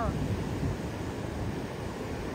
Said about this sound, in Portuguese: Hoje deu muita ventania, hoje o mar tá agitado.